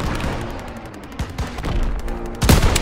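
Gunfire in the Call of Duty: WWII video game crackles as rapid, overlapping rifle and machine-gun bursts, close and loud. A heavy blast lands near the end amid continuous battlefield noise.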